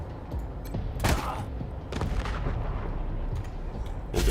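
Gunfire in the turn-based video game Wasteland 3: several sharp shots and booming impacts, with a loud pair near the start and another a second later, then scattered reports over a steady low rumble of battle ambience.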